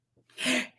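One quick, close sneeze, a short catch of breath bursting into a sharp, breathy explosion that fades within a second.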